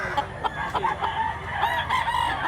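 A Talisayon black leg rooster crows and clucks nearby in a short, steady run of calls over a busy market background.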